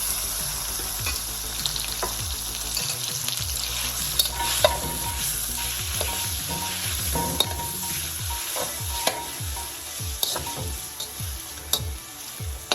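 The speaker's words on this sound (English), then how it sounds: "I'll pour in my chicken thighs." Chicken thighs fry in oil in a wok over high heat with a loud, constant sizzle, while a utensil stirs and scrapes in repeated knocks.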